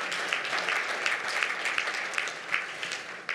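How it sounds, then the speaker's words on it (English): Audience applause at a Zimbabwe debt arrears side meeting, a dense continuous patter of clapping with a few sharper individual claps standing out, no speech over it. "applause, ladies and gentlemen."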